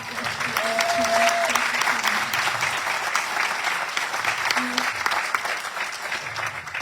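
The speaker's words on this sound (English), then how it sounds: "Big round of applause for our" A crowd applauding at a State of the City address, continuous dense clapping throughout with a few faint tonal sounds underneath.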